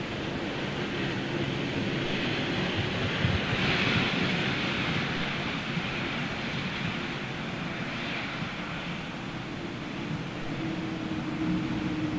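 Airliner engines throttling up at London Gatwick, a broad steady jet roar heard from a distance that swells slightly and holds for about twelve seconds.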